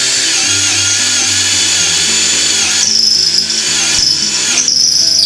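A power drill bores holes in wood for a handmade stick chair, a loud whining drone whose pitch shifts as the bit works, with sharper squeals near the end.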